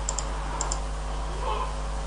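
Keys clicking on a computer keyboard as a LOGO procedure name is typed in: a few quick, faint keystrokes in two small bursts over a steady low hum.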